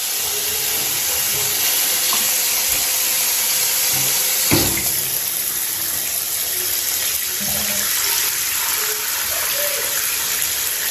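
Shower running during washing, a steady, close hiss of spraying water that holds throughout, with a brief knock or splash near the middle.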